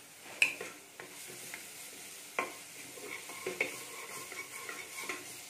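Rice and vegetables seasoned with salt and pepper being stirred in a pot, a soft scraping and stirring texture with a few sharp utensil knocks against the metal, fairly quiet and steady throughout.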